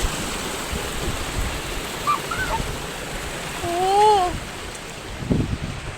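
Rushing water from a small rain-fed waterfall makes a steady, broad wash, with a few thin whistling tones rising above it midway.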